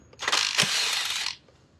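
A ratchet spins a bolt loose on the BMW 6HP21 automatic transmission of an E90 335i, one close, bright burst of rapid clicking lasting about a second before going quiet.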